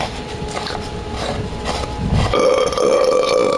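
A loud, drawn-out belch from the video game Skyrim, rising and thickening midway, heard alone without speech.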